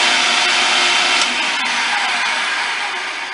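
Food processor pulsing cold butter into biscuit dough for a small breakfast batch, a loud steady motor whir running almost continuously with slight dips, close and alone with no talk.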